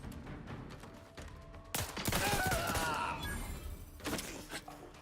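Gunfire from a gun in a video game bursts out in a loud cluster of shots and crashing impacts, trailing off into scattered thumps.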